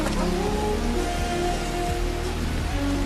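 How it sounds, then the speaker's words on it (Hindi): Steady rain pours in a Hindi-dubbed Naruto anime scene, a dense continuous hiss with faint tonal background music beneath it and no speech. "बारिश हो रही है"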